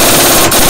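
A burst of a power tool tightening the nut on a Jeep Wrangler JL steering track bar, a loud, continuous rapid hammering rattle, close up and alone, very short.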